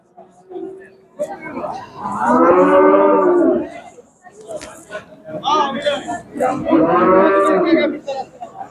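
A young bull lows twice at a livestock market in Shahrisabz, Uzbekistan, each long moo loud and close, separated by a pause with people talking nearby.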